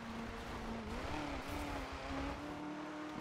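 A car in a roleplay video game drives with a steady engine tone that rises and dips slightly as it accelerates, loud and continuous with no talk over it.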